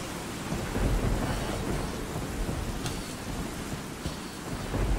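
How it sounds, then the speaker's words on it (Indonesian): Steady heavy rain pours during a thunderstorm, with a low rumble of thunder beneath a dense, even hiss that lasts throughout, close and fairly loud, with no voices. "Wow, hujan."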